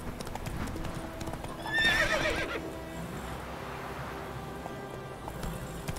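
A horse in a video game clip-clops along at a steady pace, close and fairly quiet, and gives one clear whinny partway through.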